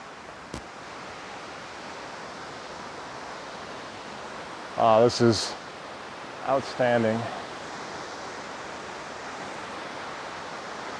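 Distant waterfall at Ricketts Glen State Park, heard as a steady broadband rush of falling water throughout, with a person speaking briefly over it.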